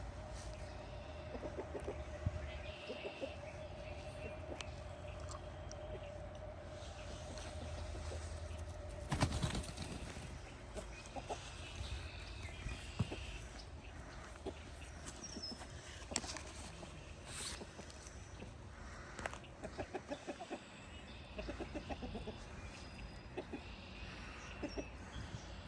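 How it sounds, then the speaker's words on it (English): Chickens clucking softly at a distance on a farm during a dry spell, scattered short calls over a steady outdoor background hum, with a louder rustle midway. "I don't know where these silly chickens are going."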